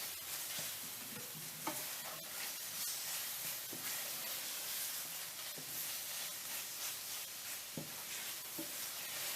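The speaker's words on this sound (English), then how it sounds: "add all your bananas and stir them around until they're nice and coated, keeping the sugar nice and hot" Bananas stirred through hot sugar in a pan give a steady, close sizzle and hiss with occasional soft scrapes and knocks of stirring, continuous and unaccompanied by talk.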